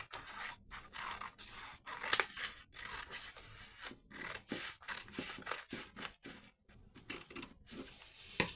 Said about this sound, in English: So just take scissors, cut right along that central crease.